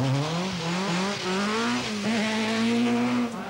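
Vauxhall rally car sliding through a slippery corner, its engine revving hard with rising and dipping harmonic pitch and a brief break mid-slide, loud and close with no voices.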